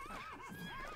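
A horse whinnies in the Lego City Undercover video game, a wavering, rising-and-falling neigh that fills the moment loudly on its own.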